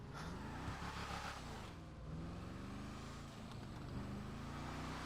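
A heavy car engine in the video game GTA 5 drones and slowly builds speed, a continuous low rumble with shifting harmonics that swell gradually.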